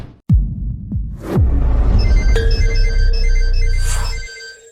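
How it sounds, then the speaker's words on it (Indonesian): A telephone ringtone sounds after a few sharp thumps and swishes: a steady electronic melody with bright sustained tones, over a low rumbling background, playing for a couple of seconds before cutting off. "Permisi, Bapak Vance, ada telepon untuk Bapak?"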